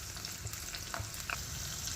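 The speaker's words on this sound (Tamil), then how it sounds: "இப்போ நம்ம பருப்பு குழம்புக்கு தாளிக்கிறது எப்படின்னு பார்த்துடலாம்." Garlic, cumin and dried red chilies frying in a spoonful of ghee for a dal kulambu tempering, a steady close sizzle with light stirring clicks and scrapes of a spoon in the pan.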